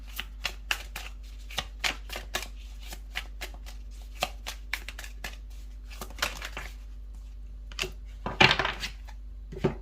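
Tarot cards shuffled by hand in a steady run of crisp riffling snaps and taps, close and fairly quiet, with a low steady hum underneath and a brief louder flurry near the end.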